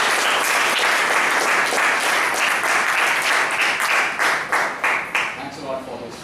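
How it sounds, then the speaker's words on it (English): A Toastmasters club audience applauds its president with loud, sustained clapping that thins out into a few individual claps as a voice starts to speak near the end. "So a round of applause to our beloved President"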